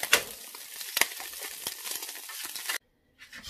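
Carnitas pork meat frying in a hot pan, a steady close sizzle with sharp popping crackles scattered through, stopping abruptly near the end before a faint resumption.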